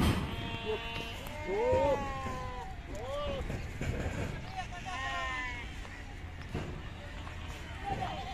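Goats bleat several times in wavering calls at a busy goat market in Deonar, Mumbai, close by over a background of crowd babble and general noise.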